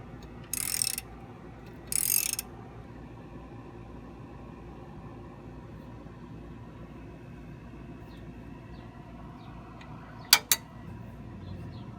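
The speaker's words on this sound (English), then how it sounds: "Tighten the 18mm bolts." A ratchet tightens 18mm brake bracket bolts during a rear brake pad and rotor job on a Trailblazer/Envoy, giving two short bursts of rapid clicking early on, then a brief double tick near the end against quiet garage hum.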